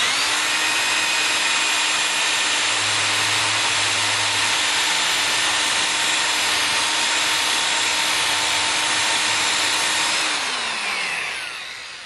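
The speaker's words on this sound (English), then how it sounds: "we're not going to drill through the entire way just for the sake of this demonstration" A power drill whines steadily at high speed for about ten seconds, biting into a hard pipe, then spins down.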